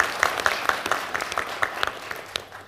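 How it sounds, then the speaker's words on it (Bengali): An audience at a mock parliament debate on preventing child labour claps, with a handful of distinct, fairly close hand claps standing out over a thinner background of scattered applause that tapers off. "আমরা জোরে তালি দিয়ে আপাকে সম্মান জানাতে চাই"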